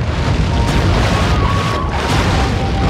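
Ship cannon fire in a pirate naval video game, a loud booming blast amid continuous dense rumbling battle noise with no clear separate shots.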